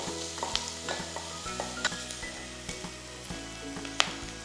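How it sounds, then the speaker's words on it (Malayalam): Onions sauté in a pan for mutton stew, a close, fairly quiet sizzle broken by frequent scraping stirs and small utensil taps against the pan. "ഇതെല്ലാം കൂടെ ഒന്ന് സോട്ട് ചെയ്യുക."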